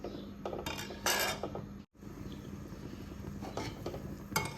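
A ladle clatters and scrapes against a metal pot while stirring aloo pyaz curry. Repeated clinks and scraping strokes come up close over a steady simmering hiss, with a short pause in the middle.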